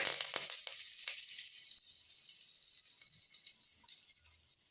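Mustard seeds and curry leaves sizzle in about three teaspoons of hot oil for bisi bele bath, a steady bright frying hiss with quick crackles and pops near the start, close and continuous with no talking.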